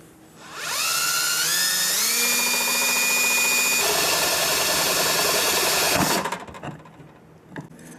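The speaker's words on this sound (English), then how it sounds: "We're just going to use that as our spot to put the tip of the drill bit in." A power drill bores through a Hyundai Santa Fe headlight dust cap, its high whine climbing in pitch as it spins up, holding a loud steady scream for several seconds, then cutting off abruptly with a clunk.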